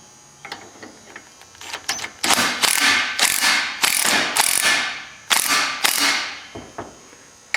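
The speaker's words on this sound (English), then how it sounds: "I'm just going to squeeze this together now, and with my impact." An impact wrench hammers in several loud, close bursts of rapid rattling while pressing a rear U-joint together on a 2000 Chevrolet Silverado Z71 1500, separated by short pauses and small clicks.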